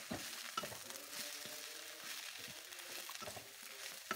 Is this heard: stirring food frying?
yes